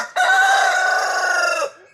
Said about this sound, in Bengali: দেখো আমার বাড়ির মুরগা